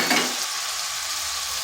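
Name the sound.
washed red lentils added to frying spice paste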